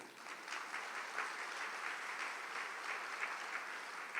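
An audience at a Catholic family talk claps together, a dense, steady patter of many hands sustained evenly for several seconds, moderately loud, with no speech over it.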